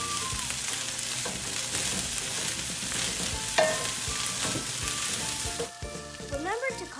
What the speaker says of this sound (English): Remember to constantly stir the fried rice.